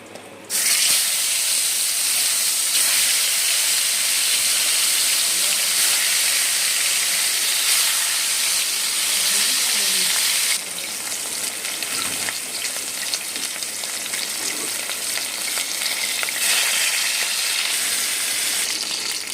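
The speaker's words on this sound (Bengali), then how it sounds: "আর এদিকে তেল গরম হয়ে গেছে এবারে একে একে মাছগুলো ভেজে নেবো" Pieces of aar fish fry in hot oil in a wok, producing a loud, continuous hissing sizzle that starts abruptly and eases slightly in intensity partway through, with no talking.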